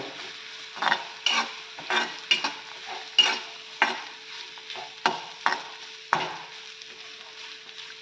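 Grated coconut lightly roasted in a pan, with a series of about a dozen close scraping stirs in an uneven rhythm over a faint steady hum.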